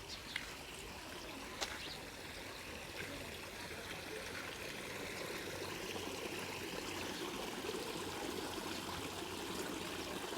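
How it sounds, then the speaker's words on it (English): Water trickling steadily in a garden koi pond in a front yard in Surin, Thailand, a soft continuous splashing wash heard fairly close with no voices. "a koi pond out here in the front yard"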